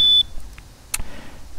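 A short, sharp electronic arming beep from a motorcycle disc lock alarm sounds close by, followed by quiet and a brief click.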